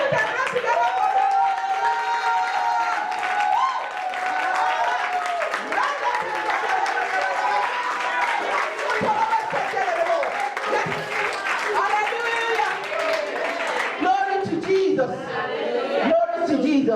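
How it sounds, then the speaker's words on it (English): A church congregation at a prayer meeting applauds and claps together, a dense, sustained wash of hands lasting throughout with mixed voices and chatter underneath. "Let's put our hands together for them."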